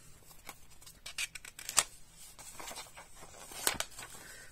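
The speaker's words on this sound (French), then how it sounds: "Vous découpez vos enveloppes." Scissors snip through paper envelopes in a quiet room, giving faint, close, irregular cuts and rustles with a couple of sharper snips.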